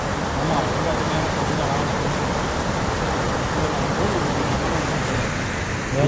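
The Kurangani waterfall roars as a dense, steady wash of falling water that stays loud and unbroken throughout, with voices faintly audible beneath it.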